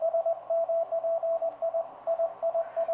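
A 30m-band homebuilt transceiver receiver picking up on-air activity: a steady keyed Morse tone pulses in irregular dots and dashes over a constant hiss, with no voices.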